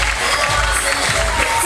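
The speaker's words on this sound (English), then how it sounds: "Crowd on their feet." A wrestling crowd on its feet cheering and applauding at an intergender match, a dense continuous roar of clapping and shouts filling the hall.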